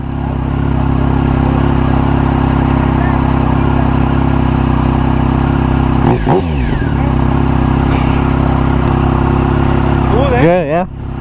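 A Triumph Speed Triple 1050 motorcycle engine idles with a loud, steady, close drone, while people talk over it.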